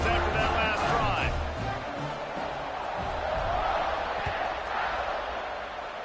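A football stadium crowd at a BYU game roars and cheers after a touchdown drive as the kickoff unit lines up, a broad sustained wash of noise with a commentator talking over it throughout.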